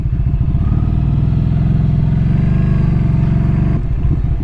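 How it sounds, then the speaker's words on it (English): A Ducati Scrambler Nightshift motorcycle engine runs steadily with a deep, throaty exhaust rumble, holding a constant drone before briefly shifting pitch near the end. "The exhaust sounds really good."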